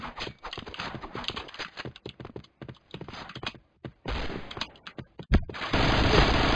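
Rapid bursts of gunfire from the video game Point Blank rattle out in uneven clusters, close and loud, broken by short gaps before a sustained roar at the end.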